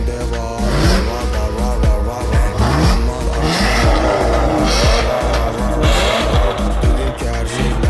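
BMW 8 Series E31 with a Warex exhaust revving hard, a loud, continuous engine roar with repeated rising and falling throttle blips close to the microphone.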